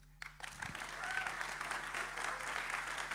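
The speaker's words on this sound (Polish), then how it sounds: "Wielkie brawa dla pani minister!" Audience applause at an open campaign meeting for local elections in Poznań breaks out after a brief amplified voice, then holds as steady, moderately distant hall clapping to the end.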